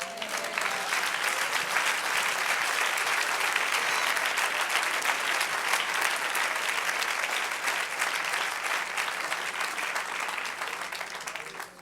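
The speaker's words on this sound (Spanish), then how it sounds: "Ahora denle un aplauso al Señor" A church congregation applauds the Lord during a Spanish-language sermon, a dense, steady wash of clapping that fills the room for the whole stretch, loud and even before tapering slightly at the very end.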